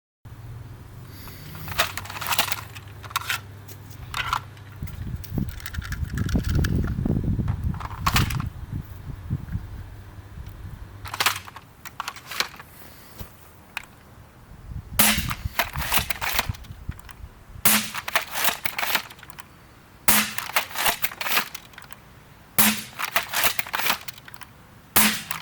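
CEDA Model-S foam blaster firing Worker darts, a series of sharp, loud single shots, several spaced a few seconds apart, with handling clatter between them and no talk.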